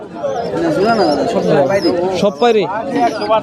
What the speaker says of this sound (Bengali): এই যে এখানেও বেশ কিছু কালারিং কবুতর আছে দেশি কবুতর